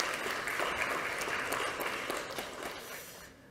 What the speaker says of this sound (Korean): 큰 박수로 모셔주시기 바랍니다.